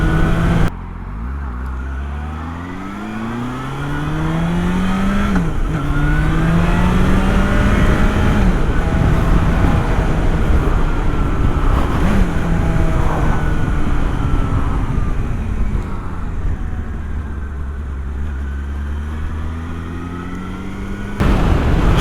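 Motorcycle engine revving as the rider pulls away and shifts up through the gears, loud and close with rising and falling engine pitch at each change, no voices.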